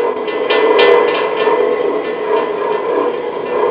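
A 14-inch Delta bandsaw runs close by with a loud, steady motor hum and whine, with a few faint ticks from the blade over the constant drone.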